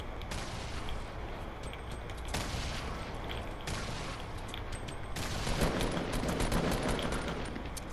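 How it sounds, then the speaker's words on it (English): Grenade launcher fire in Fortnite during a battle royale fight comes as a dense, continuous roar of explosive bursts and crackling reports with sharp onsets, growing louder and busier toward the end, with no voices. "Grenade launcher at us?"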